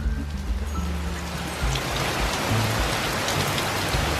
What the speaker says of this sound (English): It is raining. Very hard right now.